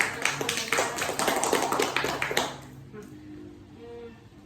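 A group in a classroom counseling session claps hands for about two and a half seconds, a dense patter of close claps that then dies away into quiet room tone.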